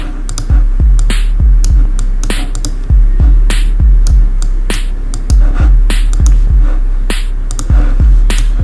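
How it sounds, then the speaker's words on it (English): An electronic kick drum in an ambient electronica track thumps loud and close in a steady, evenly spaced pulse, each deep hit decaying briefly, with a crisp clicky accent layered between beats. "So this is the first kick, guys"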